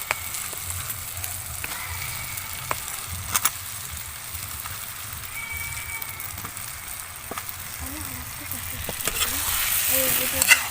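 Fried cauliflower and potato stirred in spice paste in a pan give a low, continuous sizzle with occasional sharp scrapes and clicks, swelling louder near the end.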